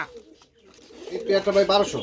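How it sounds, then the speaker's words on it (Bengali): Local pigeons at a pigeon and bird sale farm coo in several soft, close rounds that grow louder toward the end, with a voice talking over them. "দেশি গুল্লা কবুতর"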